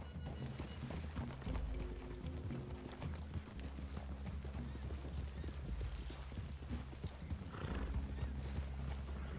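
Horses' hooves clip-clop in Red Dead Redemption 2, a steady dense trotting rhythm close by, mixed with whinnies, rumbling low ambience and occasional faint game sounds.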